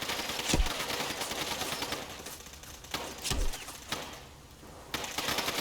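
Gunfire in the video game Fallout: London, with several sharp shots spaced a second or so apart over a busy, rumbling in-game background.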